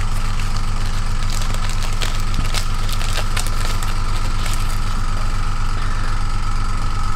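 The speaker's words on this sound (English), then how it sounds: "Got to charge the compressor back up again." A small air compressor for an airbrush runs steadily and close by, a loud continuous pulsing motor drone with a fast regular throb and no talking.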